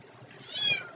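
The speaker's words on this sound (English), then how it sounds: "oh, you hear that cat?" A cat meows once, a short drawn-out cry rising and fading over about a second, moderately close against a quiet background.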